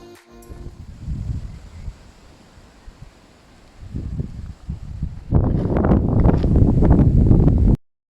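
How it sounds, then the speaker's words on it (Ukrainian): Strong wind buffets the microphone in rough, roaring gusts, quieter at first and then swelling into a loud, sustained blast near the end. "Тут ми з крістянком на прогулянці був ось такий вітер"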